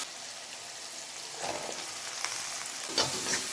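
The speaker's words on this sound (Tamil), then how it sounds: "இதை நல்லா ப்ரௌன் கலர் ஆகிற வரைக்கும் நம்ம வதக்கி எடுக்கணும்" Onions and green chillies sizzling in a pan as they are sautéed until brown, with a steady hiss of frying and a couple of louder bursts of stirring near the end.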